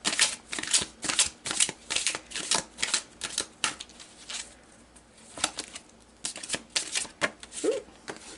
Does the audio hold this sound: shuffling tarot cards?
yes